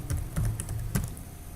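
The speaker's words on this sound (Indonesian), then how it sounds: "Misal saya ketikkan" Quick, close keystrokes on a computer keyboard as an address is typed, a short irregular burst of clicks then trailing off into quiet.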